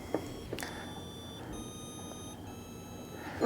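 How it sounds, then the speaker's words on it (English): Faint, steady high electronic tones come from a ZOLEO satellite messenger in SOS mode, with soft clicks at the start and end in a quiet room. "Now there's a beep going off."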